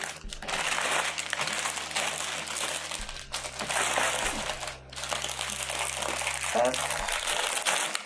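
Plastic packaging crinkling loudly and continuously while a 7th Continent board game is unboxed, close to the microphone, with a low background hum and a brief spoken word.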